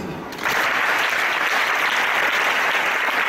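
A church congregation at a Sunday praise and worship service breaks into loud, sustained applause that swells in quickly and holds steady, dense and close, with no distinct voices.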